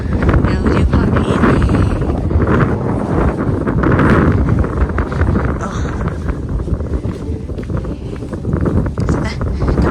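Strong gusting wind buffets the microphone at a hillside campsite, a loud continuous rumble that swells and eases, with a voice talking faintly underneath.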